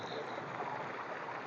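Water gushing steadily from an old electric pump motor at a bathing spot: a soft, even, continuous rush with no breaks and no voices.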